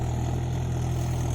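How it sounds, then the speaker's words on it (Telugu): A tractor working a paddy field before rice planting gives a steady, low, throbbing engine drone, close and unbroken for about a second and a half. "ఇప్పుడు ట్రాక్టర్ దున్నడం స్టార్ట్ చేసింది"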